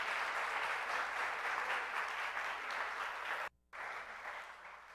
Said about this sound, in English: let's give them also a round of applause